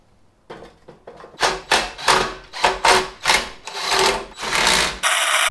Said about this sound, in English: Let's bolt it on and find out.